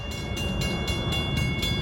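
A westbound M3 commuter train rolls over a road crossing at close range, a steady loud rumble with regular rhythmic wheel clacks as cars pass, no voices.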